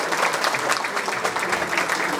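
An award-ceremony audience claps continuously, a dense and fairly close sustained round of applause with no talking over it.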